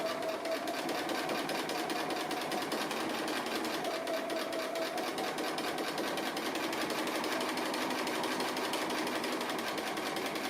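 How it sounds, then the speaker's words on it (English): A sewing machine stitches appliqué steadily, with a fast, even mechanical whir and rattle running continuously from start to finish at close range. "it's almost like drawing with your sewing machine"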